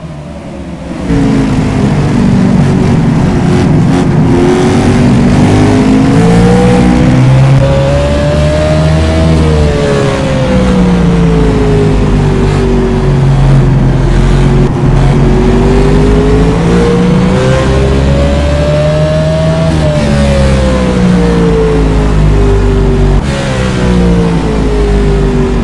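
Race car engines rev loudly at Martinsville in a racing simulator game, a continuous droning roar rising and falling in pitch as the field accelerates for the green flag.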